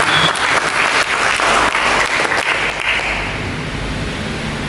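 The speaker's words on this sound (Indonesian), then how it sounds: "Mari kita berikan tepuk tangan bagi Yesus" A church congregation applauds steadily, dense clapping filling the space for several seconds before easing slightly toward the end.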